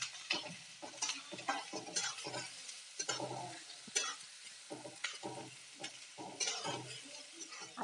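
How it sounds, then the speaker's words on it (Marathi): Cumin seeds and finely chopped onion sautéing in a pan for vada pav, with a steady soft sizzle broken by repeated stirring scrapes at an irregular rhythm. "छान तो परतून घेऊया."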